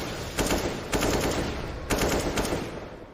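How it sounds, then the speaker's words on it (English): Counter-Strike gunfire during a DreamHack Masters Malmö 2019 match: several short automatic bursts ring out in separate groups over a constant game background, each burst a quick, crackling string of shots. "Speculative shots towards the top and middle."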